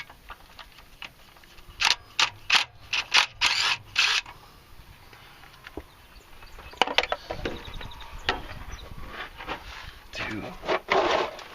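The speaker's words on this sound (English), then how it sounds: "I am going to torque this down now so I don't forget." A ratchet tightens a transmission pan bolt on a Nissan Titan, giving quick bursts of sharp mechanical clicks in two clusters, close and crisp, with a voice speaking quietly in the background.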